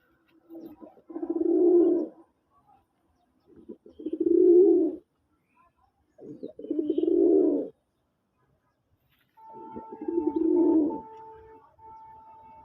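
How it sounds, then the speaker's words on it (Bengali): Four soft, throaty pigeon coos, each lasting about a second, spaced by short silences, close by in an otherwise quiet setting. "অসাধারণ একটা জোড়া খুব সুন্দর কবুতর"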